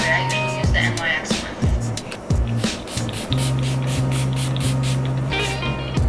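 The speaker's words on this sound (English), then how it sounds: "Spray, it could be any setting spray." Repeated short hissing bursts of makeup setting spray from a pump bottle, close and crisp, over a steady background of soft music.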